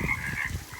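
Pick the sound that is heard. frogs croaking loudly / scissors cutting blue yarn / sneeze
frogs croaking loudly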